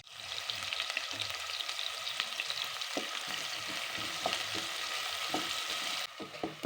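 Onions frying in a pan for a beef wet fry with matoke, a steady close sizzle with soft stirring scrapes scattered through, unbroken by talk.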